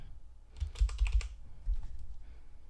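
A burst of quick keystrokes on a computer keyboard, several close clicks in a rapid cluster followed by a few scattered taps, with no voices.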